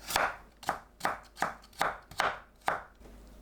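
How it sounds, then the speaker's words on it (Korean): Knife julienning carrots on a cutting board, about eight crisp, evenly spaced chops in a steady rhythm, close and clear with no talking. "당근을 채 썰어줍니다."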